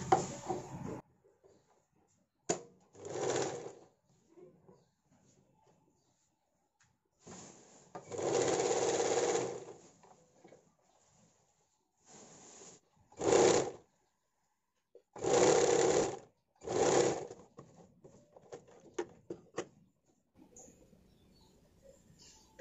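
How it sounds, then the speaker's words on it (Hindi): A sewing machine stitches a 40-size bra-cut sleeveless blouse in several short bursts of running stitches, separated by quiet pauses, close and clear with no talking. "दूसरा साइड की तरफ से सिलाई करना है। इसको भी ठीक उसी तरीके से सिलना है।"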